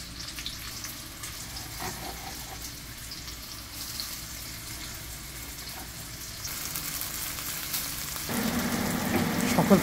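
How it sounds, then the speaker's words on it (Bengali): Fried rice ingredients sizzle in a hot wok, a steady crackling hiss that swells louder toward the end as more food goes in, with light stirring scrapes. "এক এক করে সকল উপকরণগুলো কড়াইতে আমরা দিয়ে দিব।"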